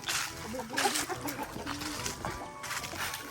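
A flock of chickens clucks and murmurs nearby in a rural yard, with short, broken calls over low background noise and some splashing.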